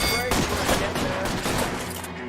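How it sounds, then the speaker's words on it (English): Rapid volleys of gunfire in a shootout from the video game L.A. Noire, with dense overlapping shots crackling continuously for a couple of seconds at close range. "久々の銃撃戦。"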